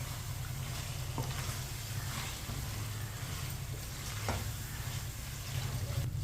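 Chicken pieces cooking with tinda in a pan over medium heat, a low continuous sizzle with occasional stirring scrapes, moderately quiet and even, accompanied by a steady low hum.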